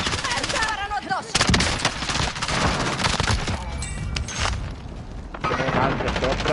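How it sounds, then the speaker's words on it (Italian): Video game firefight with rapid gunfire bursts and automatic weapon fire, loud and dense, crackling shots layered over game effects and a voice speaking in Italian. "Sparano addosso!"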